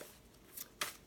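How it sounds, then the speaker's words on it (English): A tarot deck in the Marseille style is shuffled by hand, giving two quick papery riffle bursts close by, with no talk. "It shuffles really quite good. I'm gonna do a shuffle."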